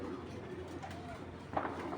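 Racing pigeons coo softly amid a murmur of background noise, with one brief louder call near the end.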